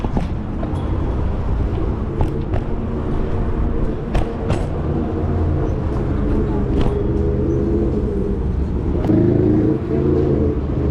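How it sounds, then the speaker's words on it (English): A bus rumbles and revs through a city intersection in Tetlan, Guadalajara, passing close by amid street traffic while someone talks over the engine noise. "Here comes a bus."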